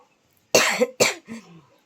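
Two sharp coughs in quick succession, followed by a softer, trailing cough, close and clear with no talk.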